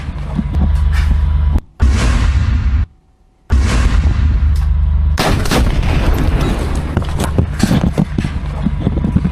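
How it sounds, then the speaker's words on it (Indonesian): Rocket attack on an Israeli Merkava tank in Gaza, heard as loud, continuous explosive blasts and battle noise at close range, broken by two short drops to near silence. "Al-Qassam merilis video serangan roket ke tank Merkava milik Zionis Israel."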